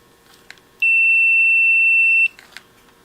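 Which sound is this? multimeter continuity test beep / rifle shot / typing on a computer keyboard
multimeter continuity test beep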